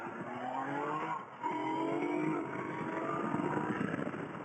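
A Yamaha Niken 900 triple motorcycle accelerates hard, its engine note rising through gears with a brief dip at a quick upshift, loud and close over wind rush.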